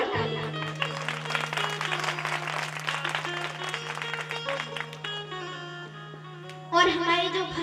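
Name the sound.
audience applause at a Bhagwat Katha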